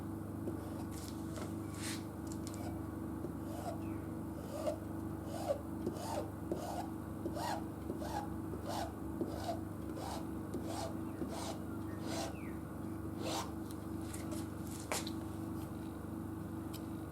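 A stiff scraper dragged across a screen to spread ink while screen printing a journal cover, producing a quiet series of short rasping strokes in a steady rhythm over a low background hum.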